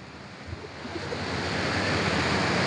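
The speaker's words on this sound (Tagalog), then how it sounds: "at rumaragas ang tubig, ano? Malapit nang umapaw dito." Floodwater rushes through a creek that is close to overflowing near a short bridge, making a continuous broadband roar that builds slightly louder over a few seconds.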